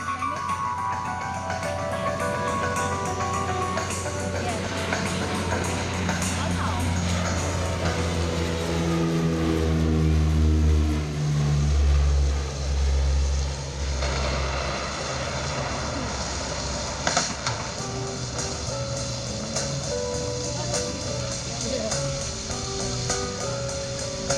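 A Grumman OV-1 Mohawk propeller airplane roars past at an airshow, its engine drone rising and falling in pitch as it approaches and moves away, loud and steady throughout.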